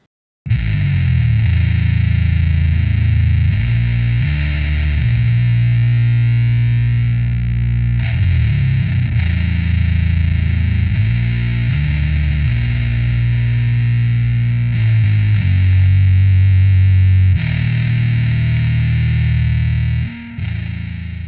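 Bass guitar driven through an Orange Fur Coat Fuzz pedal into an Ashdown ABM 500 head and 1x15 cab, played alone as a loud, continuous distorted riff with shifting low notes across the whole passage.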